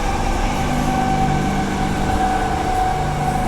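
A train rides a single line near Thornlie past a freight line, giving a loud, continuous rumble and hum with steady tonal whine throughout and no talk.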